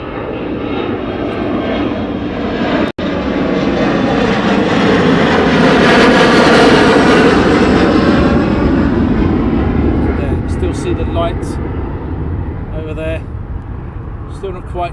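An airliner departs East Midlands Airport at dusk, its engine roar swelling close and loud, then fading off as the aircraft climbs away, while someone talks throughout.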